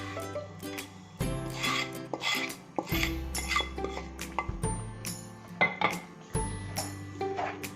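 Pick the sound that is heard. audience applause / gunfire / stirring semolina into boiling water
stirring semolina into boiling water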